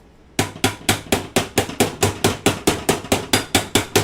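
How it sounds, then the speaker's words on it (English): A knife back taps an upturned cake pan holding a flourless chocolate cake, about fifteen sharp, evenly spaced metallic knocks in quick succession, close and loud, with no talking. "give it a little tap with the back of a knife"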